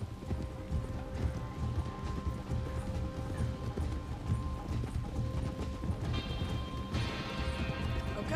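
Steady horse hooves clip-clop along at a walking pace in a video game, with a faint mechanical whir and ratcheting in the background.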